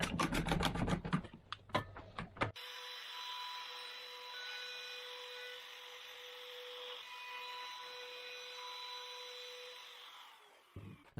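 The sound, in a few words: router cutting a round over on cherry wood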